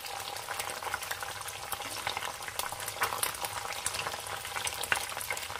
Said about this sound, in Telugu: ఎగ్ అనేది ఇలా బాయిల్ అవ్వాలి